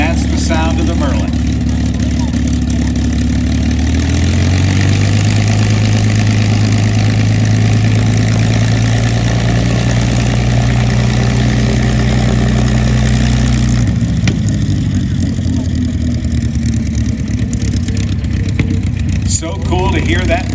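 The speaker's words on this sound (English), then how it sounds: "that's the sound of the Merlin." Rolls-Royce Merlin aircraft engine running at the Thunder Over New Hampshire air show 2023, a steady deep droning roar that holds loud for most of the stretch, with a shift partway through and crowd talk mixed underneath.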